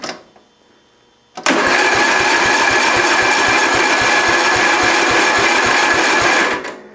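A Murray lawn tractor engine cranks at wide open throttle after a short quiet start, the starter churning in a loud, fast, even rhythm for about five seconds before cutting off, close and without speech.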